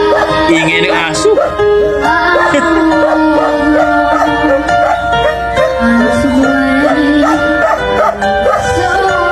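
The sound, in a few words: dog barking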